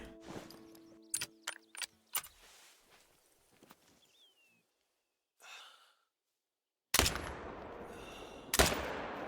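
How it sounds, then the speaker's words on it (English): A hunting rifle fires at a whitetail buck in the Call of the Wild hunting game: two sharp loud shots stand out, the second following soon after the first, after quieter breathing and faint earlier sounds. "So let's go for a shot."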